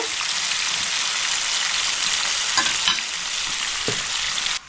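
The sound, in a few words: Shankar (stingray) fish frying in oil on high gas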